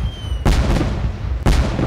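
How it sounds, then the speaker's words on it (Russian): Fireworks in the zombie shooter game Zompiercer boom twice about a second apart, loud and heavy over a rumbling, noisy background, with no speech heard. "Смотри, фейерверк пошел."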